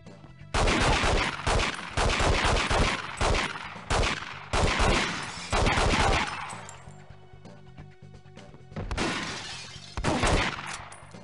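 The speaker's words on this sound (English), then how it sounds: "Shot him in the head." Gunfire in the game 007: The World Is Not Enough: repeated loud bursts of rapid shots, each lasting about a second, with shattering, clattering impacts, separated by short pauses and continuing in later bursts.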